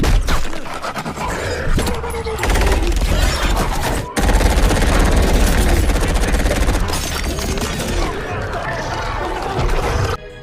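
Gunfire from weapons in a sci-fi action film about an alien white porcupine: dense, loud, continuous volleys of shots and impacts that fill nearly the whole stretch, with only a brief break partway through.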